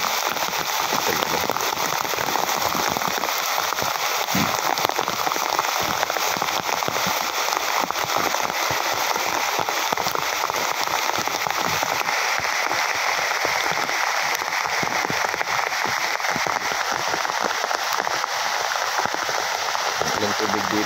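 Heavy rain pours steadily and loudly in a flooded spot in Leyte, a dense unbroken hiss of drops on surfaces and water, with a person speaking at times under the downpour.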